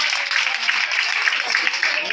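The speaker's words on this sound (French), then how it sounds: "On applaudit, on acclame l'ange de cette maison, l'ange de cette église" A church congregation applauds in a continuous, dense wash of clapping that holds steady and fairly loud throughout, with no clear gaps.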